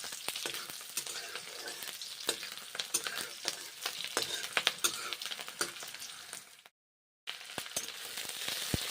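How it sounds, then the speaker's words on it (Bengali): Chopped onions and green chillies fry in hot oil, a steady crackling sizzle with frequent sharp spitting pops and stirring, close and fairly quiet, broken by a brief moment of silence before resuming. "পেঁয়াজগুলো ভেজে নিলাম"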